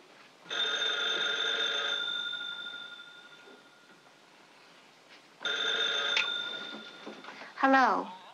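A telephone rings in a 1943 film in two long trilling bursts separated by a pause, fairly close, followed by a brief voice at the end.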